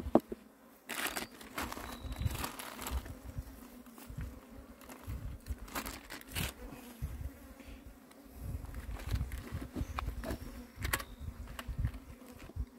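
A swarm of Apis honey bees buzzing loudly and continuously during a hive capture and rescue, a dense close drone with rustling and crinkling handling noises mixed in.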